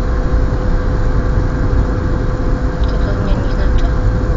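A car engine hums and labours while driving on a road, a steady dense rumble close by, strained in too high a gear, with faint speech in the background.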